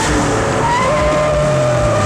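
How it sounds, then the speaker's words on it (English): A car speeding with a loud, steady engine roar and rising pitch during a movie chase scene, close and continuous, with no talking. "A giant car is about to run you over?"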